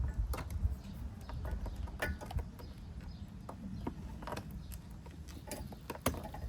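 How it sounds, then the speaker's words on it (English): Faint plastic clicks and scrapes come from prying up wire harness clips in a Chevy Malibu engine bay, sparse irregular snaps over a low background rumble. "You want to use this to pry up on the wire harness here."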